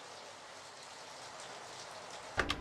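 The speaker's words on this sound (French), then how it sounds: "c'est de la pluie sur une grange ou quelque chose du genre" Rain falling on a barn, a soft steady hiss of drops on the roof used as a sound-effect layer, faint and continuous with a brief louder patter near the end.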